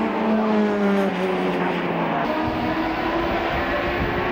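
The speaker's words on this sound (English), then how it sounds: "Here come the Hondas now." Honda Civic saloon race cars at Brands Hatch in the 1999 National Saloon Cup roar past in a continuous loud engine drone, pitch sliding downward as they go by, with another car's engine note rising behind.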